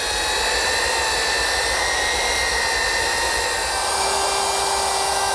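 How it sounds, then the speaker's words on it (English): A belt sander rounds over the corners of a butcher block countertop, running with a loud, steady whirring whine that never lets up. "I'm going to use my belt sander to round over the corners to take away that sharp point"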